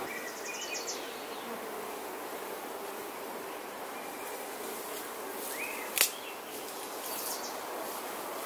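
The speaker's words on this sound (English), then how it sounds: "we'll just try moving some bees over" Honeybees hum in a steady, busy swarm nearby, a continuous buzzing drone with a short sharp click or knock partway through.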